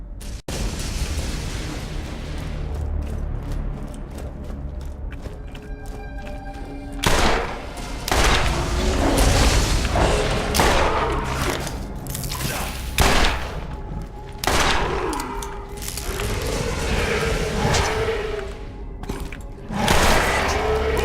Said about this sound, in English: Like, for example, a stomper, you can usually tell what that sounds like.